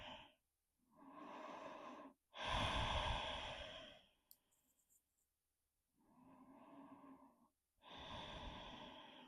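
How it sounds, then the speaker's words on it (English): Slow, deep yoga breaths during a forward fold: long audible inhales and exhales alternating with short silent gaps, close and fairly loud, the strongest a heavy sigh-like exhale, no talk. "And we inhale and exhale."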